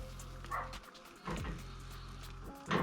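A dog barks a few times at moderate distance, short sharp yaps spaced apart over a steady low background hum.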